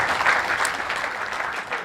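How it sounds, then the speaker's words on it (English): Audience applause at a bonsai club talk, a brief steady patter of clapping from a seated crowd at moderate level. "round of applause"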